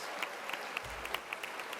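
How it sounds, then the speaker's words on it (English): Applause from the crowd at a charity luncheon and silent auction, a brief spell of scattered clapping heard at a moderate distance, with a faint low thump partway through. "Another round of applause, please."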